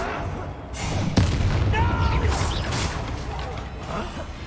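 A Confringo explosion spell goes off in the video game Hogwarts Legacy, a sharp blast followed by a rumbling, crackling burst amid busy combat noise.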